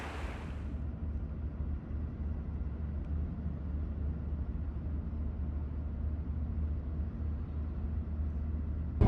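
A truck camper driving on the road into Jasper produces a low, steady rumble of engine and tyre noise, continuous and fairly quiet, with no talk.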